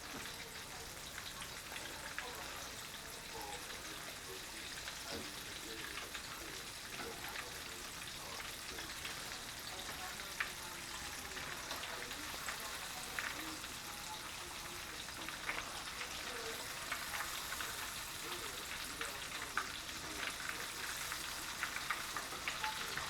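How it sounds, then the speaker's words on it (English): Catfish sizzles steadily in hot oil, a continuous crackling hiss with scattered pops, close and moderately quiet, with no talking. "other than just frying them up"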